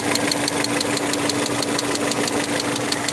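A Peugeot 307 with the EW10J4 engine and manual gearbox idles roughly with a valve fault, giving a steady close engine drone with a fast, regular ticking knock running evenly throughout, no voices.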